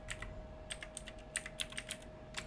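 Quick bursts of keystrokes on a computer keyboard as a folder name is entered, irregular clicks clustered in short runs, close and clear over a faint steady hum.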